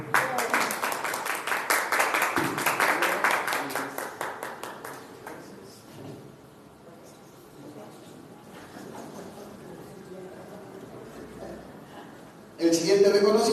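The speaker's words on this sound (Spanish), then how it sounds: "Un fuerte aplauso, por favor." An audience at a recognition ceremony honouring neighbourhood chroniclers applauds with dense, even clapping that gradually fades into quiet room noise. A brief louder burst of sound comes at the very end.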